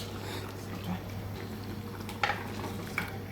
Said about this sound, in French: Donc là, on tourne et on retourne. On mélange le tout.